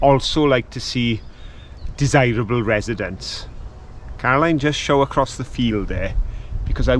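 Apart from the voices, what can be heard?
No everyday noise stands out behind the speech.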